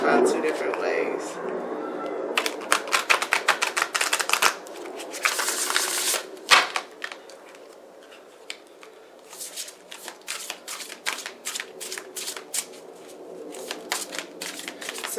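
Tarot cards shuffled by hand during a reading, in rapid bursts of crisp riffling and flicking with pauses between, close and fairly loud, with a voice talking in between.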